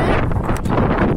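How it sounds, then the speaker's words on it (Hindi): Strong wind blows outdoors and batters the microphone, a loud, continuous rushing roar that fills the short clip with slight gusting dips and no talk. "बहुत सारा हवा चल रही है।"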